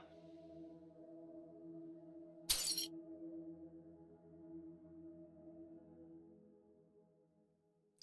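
A drinking glass shatters abruptly in a video game, one sharp bright burst about a third of the way in, set over a steady humming ambient drone that fades out near the end.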